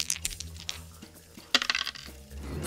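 Dice clatter and tumble across a hard surface in a tabletop roleplaying session, a sharp rattling burst midway followed by a few settling clicks, close and fairly quiet.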